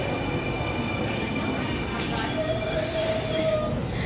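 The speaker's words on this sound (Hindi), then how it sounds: "And I think the train is here." A train pulls into a station in the rain in Australia, with loud steady rumbling and a high metallic wheel squeal rising near the end, all close by.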